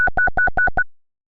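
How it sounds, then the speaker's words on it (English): Synthesized alarm built with MetaSounds in Unreal Engine 5 from a sine wave and LFOs: seven rapid, evenly spaced loud electronic beeps, each a steady tone, stopping abruptly and then silent. "this is an alarm, and it uses some LFOs and a sine wave to do some interesting things"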